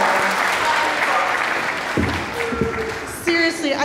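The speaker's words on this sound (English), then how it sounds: "Another round of applause." Audience applause at a Harper Junior High spring concert in Davis, California, a dense sustained clapping from a large crowd that fills the room, with a voice and a few brief tones rising near the end.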